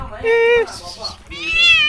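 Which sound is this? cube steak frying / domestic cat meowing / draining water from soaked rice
domestic cat meowing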